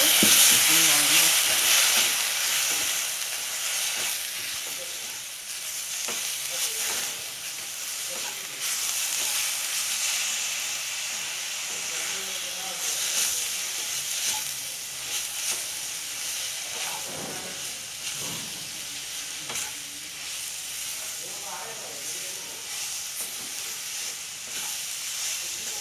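A jaggery and coconut laddu mixture with milk being stirred in a hot pan, a steady loud sizzle and hiss with soft scraping strokes running the whole time.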